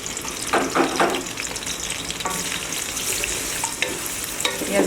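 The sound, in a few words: chopped onions frying in hot oil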